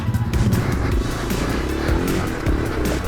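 Yamaha TW200 dual-sport motorcycle ridden on a hard enduro trail, its engine running steadily and close throughout with rumbling low tones and small rev changes, no talk.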